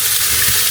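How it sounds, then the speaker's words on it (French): Onions, garlic and bacon bits frying in a pan, a steady close hiss and sizzle with no pauses. "on va faire revenir les oignons avec de l'ail et des lardons"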